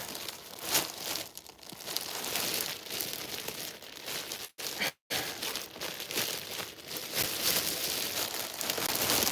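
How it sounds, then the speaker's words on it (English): A bow and plastic wrapping are pulled off a raffle gift basket, giving a continuous crinkling and tearing rustle that is close and busy, with two brief pauses midway. "So let's just go ahead and get this bow off of here."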